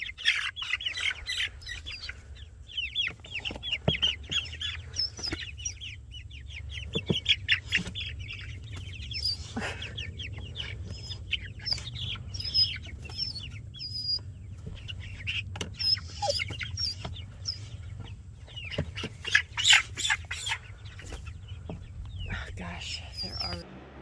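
Cornish Cross chickens cheep and peep continuously while carried outdoors in a tote to the yard in cold weather, with scattered clatters and footsteps under a steady low rumble and occasional talk.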